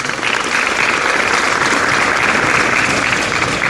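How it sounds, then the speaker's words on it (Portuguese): A church audience at a solemn Catholic community ceremony gives a full round of applause, loud, dense and sustained throughout with no voices on top. "Acolhamos o nosso fundador e moderador com a salva de palmas."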